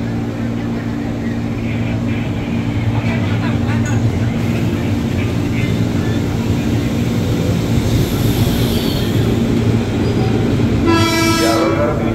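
A KRL commuter train departing Manggarai station, a steady loud rumble of wheels and motors throughout, with a station announcement voice over it and a horn-like tone near the end.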